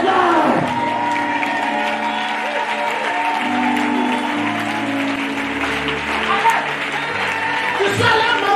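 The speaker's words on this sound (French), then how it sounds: "Et lève-toi et acclame le Seigneur." A church congregation erupts in sustained applause and cheering in praise of the Lord, a dense, loud wash of clapping and voices that continues throughout, with some speech mixed in.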